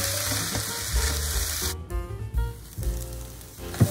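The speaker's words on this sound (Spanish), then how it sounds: "le vamos a echar nuestras lentejas. Ahora le vamos a mezclar bien" Lentils go into a frying onion and garlic seasoning and are stirred, a loud close sizzle that dips and swells with scraping spoon strokes and a brief pause, with no one speaking.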